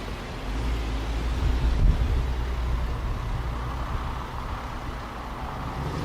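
A deep, rumbling Mercedes-AMG 6.2-litre V8 engine idles and revs steadily, loud and close, with a throaty low-end growl and one brief surge partway through.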